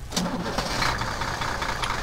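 A heavy tank engine in a World War II video game rumbles to life and idles with a steady, loud mechanical drone, filling the whole moment without any talking.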